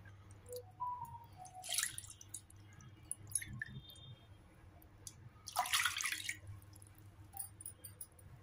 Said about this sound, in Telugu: 2 కప్పులు నీళ్లు పోసుకోవాలి.